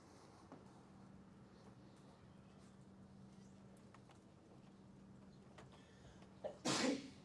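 A single sharp sneeze bursts out near the end in a quiet lecture room, loud and brief against a faint steady hum and soft background murmur.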